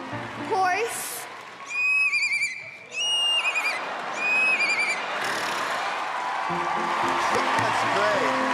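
An 11-year-old girl mimics a horse neighing on a talent show stage, with loud, quavering whinny calls in several bursts, then crowd noise and applause swelling underneath.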